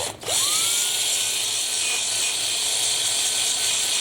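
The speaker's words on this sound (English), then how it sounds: "Take a Q-tip, put it in a cordless drill." A small cordless drill spinning a cotton swab to polish a snowblower carburetor seat whirs up quickly, then spins at a steady high-pitched whine, close by and continuous, with no talking.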